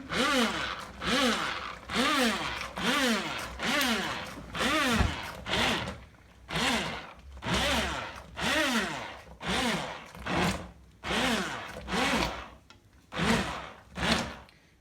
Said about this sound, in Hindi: अब हम ऐसे हैंड ब्लेंडर से थोड़ा सा ब्लेंड कर देंगे।